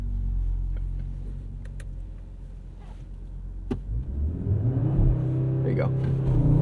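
A 2022 Audi RS 3 makes a launch-control start with traction control off. A low, quiet rumble gives way to a sharply rising engine note that builds and stays loud, with people talking inside the car.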